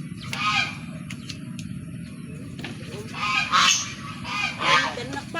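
Geese honk in loud, nasal bursts near the end, following a few scattered calls earlier over a steady low background rumble, fairly close.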